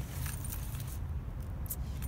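Car keys jangle in brief, bright metallic bursts near a parked car, faint against a low rumble of background traffic.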